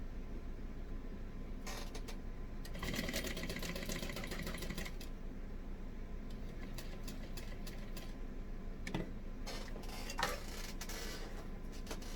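Sewing machine running a base stitch along the sides of a fabric tote bag, quiet rapid mechanical ticking in several bursts of varying length with short pauses between.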